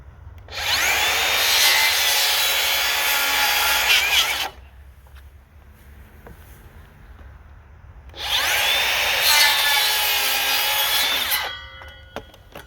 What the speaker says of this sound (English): I cut off with the circular saw the 2 areas right here